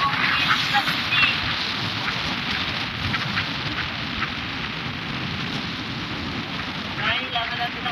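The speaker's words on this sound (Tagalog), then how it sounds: "abot nga tayo ng ulan" Heavy rain pours down continuously at Natipuan, a dense, loud hiss of drops pounding surfaces that stays steady from start to finish, with voices faintly underneath.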